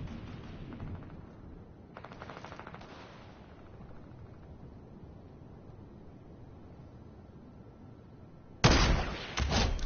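Gunfire in Fortnite, rapid bursts of automatic shots, a brief burst early, another around the middle and a loud close volley near the end, over a low steady game background with no talk.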